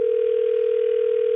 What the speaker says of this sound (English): I dialed him on 5.